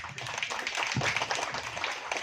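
Applause at a regional legislator's constituency meeting in North Sumatra, a crowd clapping in a steady, brisk patter for a couple of seconds, moderately loud.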